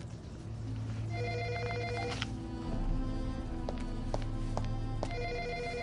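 A telephone rings with repeated electronic bell bursts, fairly close, over a steady low hum of background music, with no voices.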